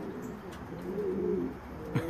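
A pigeon coos in a soft, rolling call of a couple of seconds, fairly close and clear over quiet background hiss, with no talking.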